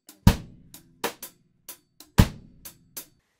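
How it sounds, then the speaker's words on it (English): One drop reggae drum groove on a kit, with the bass drum landing together with a cross-stick rim click on beat three, plus lighter hi-hat or ghost strokes between, played close and alone at a relaxed tempo. "So you can actually hear the bass drum playing with the cross stick on beat three for those measures there for the reggae groove."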